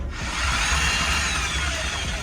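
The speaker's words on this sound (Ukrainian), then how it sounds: "на е, свердло намотали наждачний папір і отакими махінаціями" A drill wrapped with sandpaper spins continuously with a rough, abrasive scraping as it grinds paint off the inside of a wheel rim, loud and close throughout.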